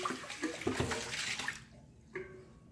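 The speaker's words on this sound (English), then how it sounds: "Rinse with hot water." Hot tap water running in a kitchen sink to rinse a dish, a steady splashing gush that cuts off partway through, leaving a faint trickle and drip.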